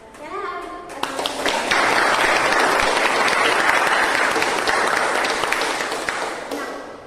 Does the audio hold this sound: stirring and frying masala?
no